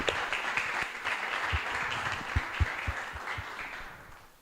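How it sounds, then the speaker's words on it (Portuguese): An audience claps for a guest speaker at a communication week event, a dense, steady patter of many hands that fades toward the end, heard from within the room. "Uma salva de palmas para esse grande comunicador."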